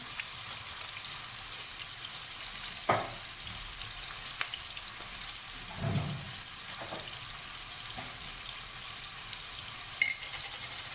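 Green beans sizzle and fry in a pan with black pepper added while making fasulye mıhlası, a soft steady crackle broken by a few sharp stirring clinks and a brief low scrape near the middle.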